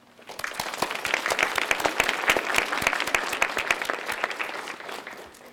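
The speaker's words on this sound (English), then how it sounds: "give them a round of applause" A room applauds long-serving colleagues at an English department awards night, sharp individual claps building quickly into steady, fairly close applause that fades near the end.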